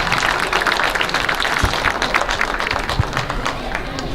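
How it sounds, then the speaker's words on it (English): Crowd applause at a junior livestock show, a steady wash of clapping from the audience for young exhibitors after a heavyweight Duroc hog class, continuous and fairly loud, with some voices mixed in. "Let's give these three young kids another nice round of applause."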